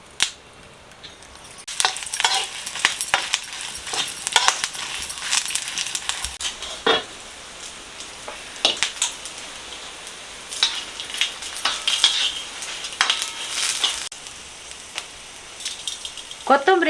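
Dry red chillies and pepper frying in hot oil in a village kitchen, a light crackling sizzle with scattered pops and scraping stirs that come and go, fairly close and with no speech over it.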